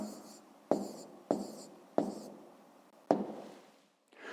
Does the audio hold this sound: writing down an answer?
yes